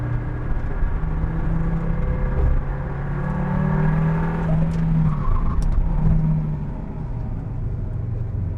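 A KTM X-Bow GT-XR sports car drives fast with a loud, steady engine roar and drone. The pitch swells and eases slightly as the car holds speed, and no voices are heard.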